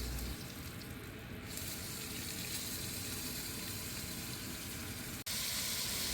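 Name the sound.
onions searing in beef juices in a pot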